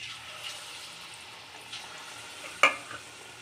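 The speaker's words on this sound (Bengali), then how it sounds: "আমাদের কলার ব্যাটারটা এবার তেলে দেওয়া হচ্ছে।" Banana batter frying in hot oil, a steady close sizzle throughout with one sharp pop or splash near the end, moderately loud, with no voices.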